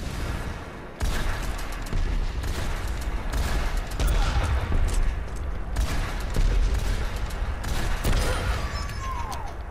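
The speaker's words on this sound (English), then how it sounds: "It shoots out several missiles" Rapid volleys of rocket fire and explosions from Pharah's Missile Barrage in the video game Overwatch, a dense continuous barrage of booming blasts and whooshes with sharp bursts recurring throughout.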